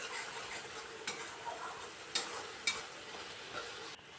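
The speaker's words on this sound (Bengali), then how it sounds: "মশলাটা খুব সুন্দরভাবে কষানো হচ্ছে, একদম শুকনো করে কষিয়ে নিচ্ছি" Spice paste scraping and sizzling as it is stir-fried dry in a wok-style kadai for a soybean dish, a soft continuous fry with a few sharp metallic clicks of the spatula, no talking.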